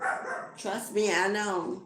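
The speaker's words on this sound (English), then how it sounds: "That's my dog in the backyard." A dog barks and yips several times from a backyard while a person talks over it.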